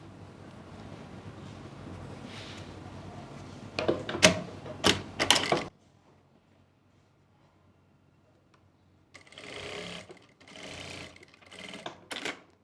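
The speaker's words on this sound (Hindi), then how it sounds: "इस तरीके से सिलाई को कंप्लीट कर लेंगे।" A sewing machine stitches a trouser waistband in a steady run that ends in a loud burst, followed by near silence. It then starts again in a few short, intermittent bursts.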